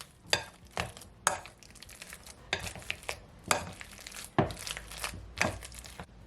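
Soft plantains and bananas mashed for banana bread, a series of irregular squishy, crackly presses and scrapes against a bowl, close and moderately loud with short pauses between strokes.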